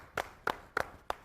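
At a NELP Class XI commencement, a few slow, evenly spaced hand claps ring out faintly from a small gathering honoring a graduate, four distinct claps with quiet gaps between.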